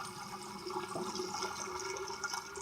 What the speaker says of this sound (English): I just want to put some water in there